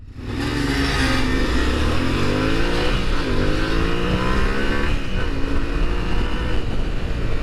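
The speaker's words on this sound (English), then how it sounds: "Just gonna see who can get to 60 faster, the T7 or the KTM 390" A Triumph T7 and a KTM 390 motorcycle accelerate hard side by side from a standing start in a race to 60, engines rising through the gears loud and close, steady roar throughout with no talk.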